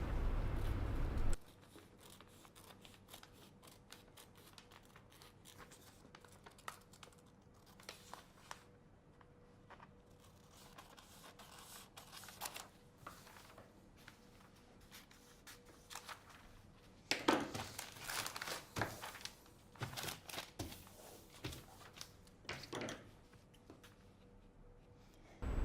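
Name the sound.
scissors cutting out the front sewing pattern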